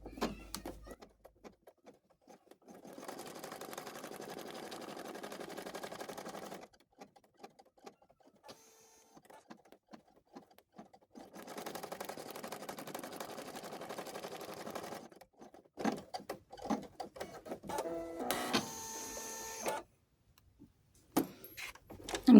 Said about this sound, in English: I can continue with the pocket placement stitches